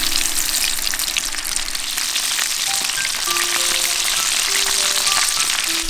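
Chicken karaage deep frying in hot oil, a steady dense crackling sizzle throughout with scattered pops and faint clinks of utensils.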